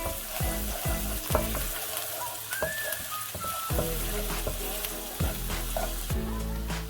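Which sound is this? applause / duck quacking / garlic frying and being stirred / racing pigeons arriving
garlic frying and being stirred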